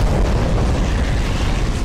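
Powerful bomb explosions in the video game Garry's Mod: a sustained loud, rumbling roar of blasts running together, close and heavy, with no voices.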